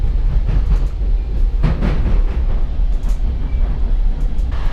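A Metrolink commuter train runs along its rails through Southern California, a loud, steady rumble and rattle of wheels and cars that continues without a break.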